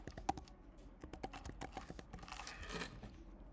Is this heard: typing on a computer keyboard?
yes